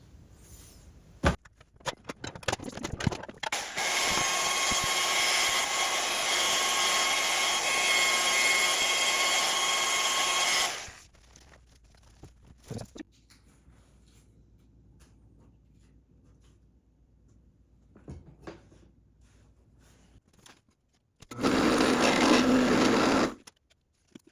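A guitar pickguard being power sanded, with a steady high-pitched machine whine for several seconds, then quiet scraping and taps, and a second short burst of sanding near the end.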